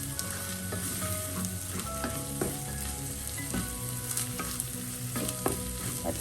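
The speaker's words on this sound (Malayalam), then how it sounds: "ഇത്രയും ചേർത്ത് നന്നായി ഒന്ന് വഴറ്റാം." Prawns and small onions sauté in a pan with chili powder and fennel powder, giving a steady close sizzle and frying hiss with soft scraping stirs throughout, and no voices.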